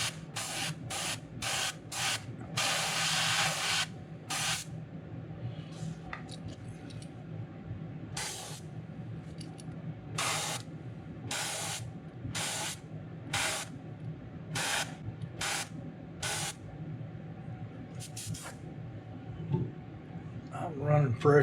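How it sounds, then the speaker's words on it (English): Repeated bursts of brown paint hissing from an airbrush onto a fishing lure, short sprays separated by brief pauses, with a steady low compressor hum underneath throughout. "we're gonna spray a little bit of brown over them"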